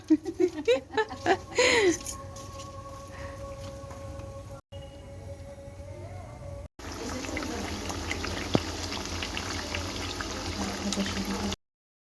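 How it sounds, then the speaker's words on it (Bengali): Potato chops deep-fry in a pan of oil at home with a steady, dense bubbling hiss. A voice and some clatter come first, and then the frying carries on alone. "চপ ভাজা এখানে শুরু করে দিয়েছি"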